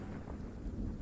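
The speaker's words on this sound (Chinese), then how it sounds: "外面下雨，记得打伞。" Steady rain with a low rolling rumble of thunder outside, dense and continuous for a brief moment without any voices.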